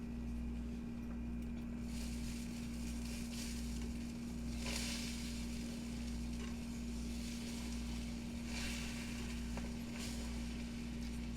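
A stuffed sausage and cheese egg waffle sizzles steadily on a hot waffle iron, a soft continuous frying hiss over a low electrical hum, with occasional faint stirring taps and no voices.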